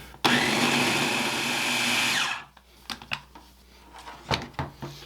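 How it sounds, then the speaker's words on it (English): A food processor pulsing empanada dough with a lot of butter to pea-sized bits: one long loud whirring burst that stops, followed by several short knocks and clatters. "we're going to just pulse it again here until I get pea-sized bits"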